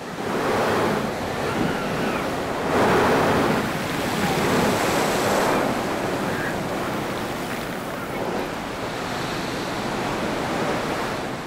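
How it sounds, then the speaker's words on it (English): High surf waves pound the rocky Oman coast, pushing water up through blowholes in a steady, loud roar of crashing water with wind across the microphone. "Particularly high waves of surf push water fountains up through holes in the rock."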